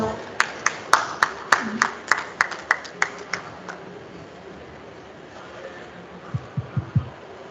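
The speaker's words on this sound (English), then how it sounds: "Can you please give her a round of applause?" A small audience at a side event on REDD+ cooperative approaches claps for a speaker, a thin run of distinct, evenly spaced hand claps that fades out, followed by a few softer claps near the end.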